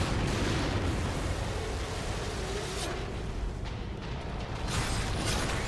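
Rocket launcher fire in the survival-horror game The Evil Within, a dense continuous roar of blasts and explosions layered over one another with no clear gaps between shots.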